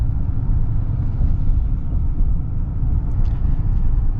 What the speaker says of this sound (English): it does have HD suspension. So it's gonna be a little bit bumpier to ride.